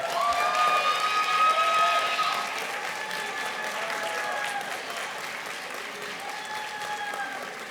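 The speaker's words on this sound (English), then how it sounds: "give them a round of support" Applause from a ceremony crowd honoring a graduating basic training class, a sustained wash of many hands clapping that peaks early and then holds steady, with faint voices mixed in.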